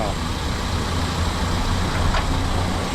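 A 2005 Perodua Kembara 1.3 EZ facelift with a DVVT engine and automatic gearbox idles quietly, a smooth, even low hum under a constant hiss with no revving.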